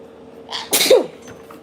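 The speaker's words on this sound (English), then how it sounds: "I had to pause real quick so I could let those two sneezes out." Two sneezes in quick succession from a person, the second louder and fuller, close to the mic with no talking.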